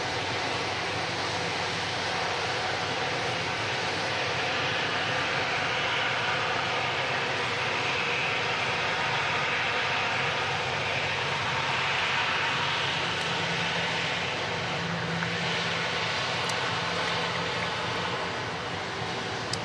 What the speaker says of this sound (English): EasyJet vacating behind him from Milan.